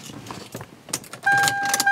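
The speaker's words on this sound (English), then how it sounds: "And then we can test it by turning the car on." A 1997 Toyota Camry being switched on: keys jingle and click in the ignition, then a steady electronic chime or warning tone sounds, close and moderately loud.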